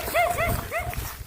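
A dog gives three quick, fairly close barks over a soft rustling background, each with a short bright yelping tone, and then falls quiet.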